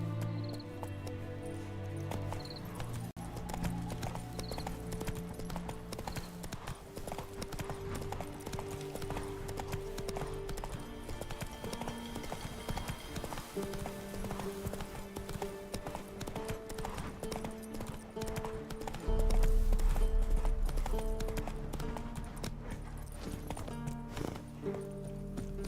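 Horse hooves clip-clop steadily at a gallop in The Witcher 3 video game, a continuous rhythmic patter under game music, growing louder near the end.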